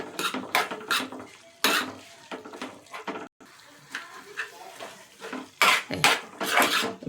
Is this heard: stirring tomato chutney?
yes